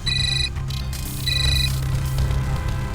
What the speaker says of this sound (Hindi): रति का फोन है।